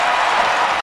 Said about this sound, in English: Just listen to this crowd right now